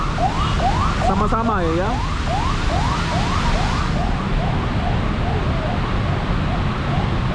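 An ambulance siren wails up and down repeatedly over steady traffic-jam rumble on a Jakarta street at night, with a brief spoken phrase near the start.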